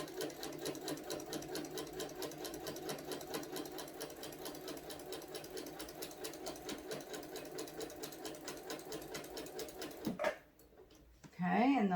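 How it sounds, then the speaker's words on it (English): A sewing machine stitching a quilted placemat, running in a steady, rapid mechanical ticking for about ten seconds before it stops, followed by a faint voice. "I put my presser foot down. I'm going to go ahead and sew."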